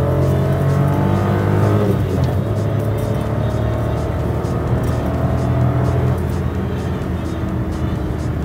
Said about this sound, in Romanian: Scârț la Matiz?